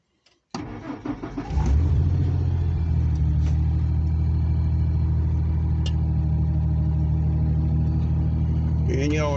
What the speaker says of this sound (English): Get this old phone here all set up, ready to fire up the old engine.